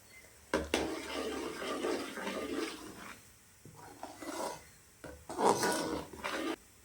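Idli kurma being stirred in a pan, a few scraping, rasping strokes of a spoon against the metal, coming in short bursts with pauses between them, fairly close and moderately loud.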